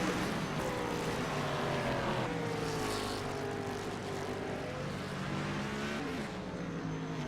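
Race car engines at Road America during an IMRS event, a steady loud drone of several cars with rising and falling pitch as machines pass along the track, continuous throughout with no voices.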